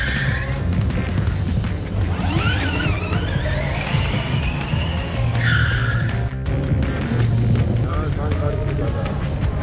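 Formula Student electric race car running on the brake test area at a Formula Student Austria event, with tire squeal and skidding over steady motor whine, heard at moderate distance amid constant crowd and outdoor noise.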